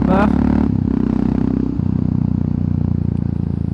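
A motorcycle suited to an A2 licence revs and pulls away with a strong, close engine note, its harmonic drone stepping down as it shifts into a steady throb with faint clatter.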